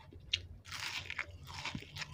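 Crispy rolled egg snack (telur gulung) bitten and chewed up close, a sharp crunch followed by a run of loud crackly chewing bursts with no talking.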